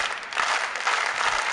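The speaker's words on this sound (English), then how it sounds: "I know it's the slow clap sound effect. Can you play it one more time just for Daria Freeman?" A slow clap sound effect plays at a college tennis championship, a dense, hissy wash of applause-like clapping held at an even level for a moment, with no talk.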